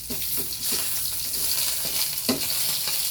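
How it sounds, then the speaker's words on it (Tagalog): Food frying in a pan for lunch, a steady close sizzle with repeated scraping stirs of a utensil every half second or so, no voices. "Nasunog na yung piniprito ko."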